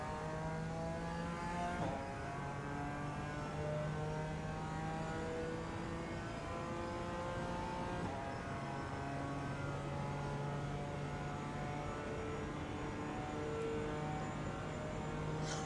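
BMW M4 GT4 race car engine in the iRacing sim at the Miami International Grand Prix track, a loud continuous engine drone that rises through the revs with gear changes, heard alone without talk.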